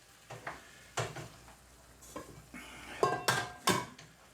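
Steak and Guinness pie filling stirred and simmering in a pan, with sharp spoon scrapes and clinks against the metal at irregular intervals over a soft, steady bubbling sizzle, close and fairly quiet.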